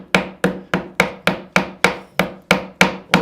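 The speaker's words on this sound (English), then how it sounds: "we'll just start with our chisel" A wood chisel is struck by hand while cutting out a wooden sled, giving about eleven sharp, evenly spaced knocks roughly three per second, close and loud with no talking.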